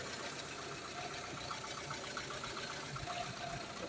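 A car engine idles after starting with a faint, steady, even rumble that runs unbroken throughout, with no talking.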